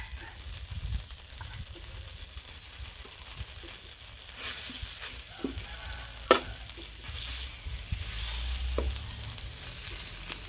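Thai curry paste stir-fries in a pan with a soft continuous sizzle, joined by occasional scrapes and clinks of a utensil stirring, fairly quiet and close, with no talking.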